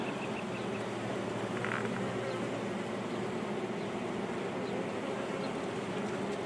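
Honey bees buzzing steadily around an open beehive during an inspection, a dense continuous drone heard close and fairly soft, without talk.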